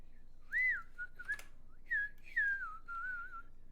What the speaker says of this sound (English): everyone's here just to listen to my whistling